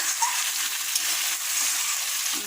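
Meat and garden tomatoes frying in oil for biryani give a steady, dense sizzle with faint crackles throughout, close and continuous with no talking.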